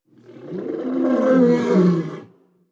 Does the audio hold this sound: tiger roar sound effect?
yes